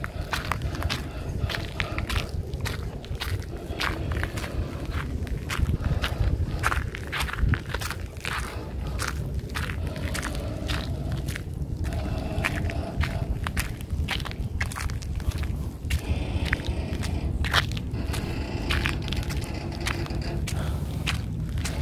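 Sandal-clad footsteps slap and scuff along a Copenhagen street in a quick, steady rhythm, close and clear over a constant bed of city noise.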